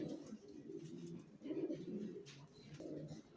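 Racer pigeon chicks cooing nearby, a soft continuous low burbling with repeated coos, faint and close.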